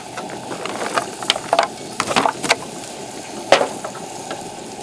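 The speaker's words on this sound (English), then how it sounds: "I think I'll go ahead and add our onions and let this all saute and cook until it's brown." Onions sautéing in a pan, a soft continuous sizzle broken by scraping and clicking stirs as they are turned, close and fairly quiet.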